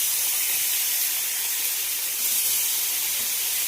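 Fish heads sizzle loudly in hot oil in a pan already holding frying potatoes, a steady, close, unbroken hiss that runs the whole time with no talking.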